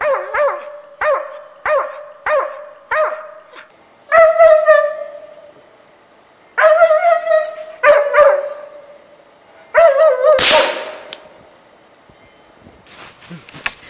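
A hunting dog barks at a sable up a tree in autumn forest, a run of sharp, evenly paced barks close by, then longer yelping, whining bursts and a loud rustling crash near the end.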